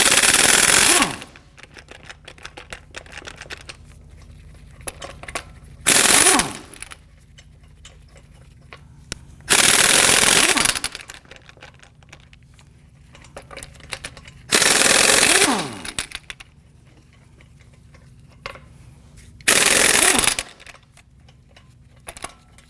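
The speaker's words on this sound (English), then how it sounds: "we're going to loosen and remove our lug nuts." Lug nuts on a 2015-2020 Ford F-150 front wheel are loosened and removed with an impact wrench and 22mm socket. Five loud, rattling one-second bursts come several seconds apart, with quiet gaps between them.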